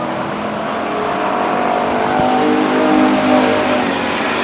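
Pure stock race cars at Stockton 99 Speedway on the final laps of a heat race, a steady loud roar of engines with broadband noise and no talk.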